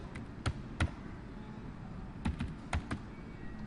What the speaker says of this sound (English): Type a password